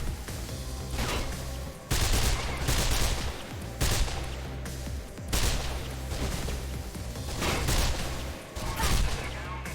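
Gunfire in the video game Mirror's Edge, loud sustained bursts of rapid automatic shots coming in several waves with short pauses between them.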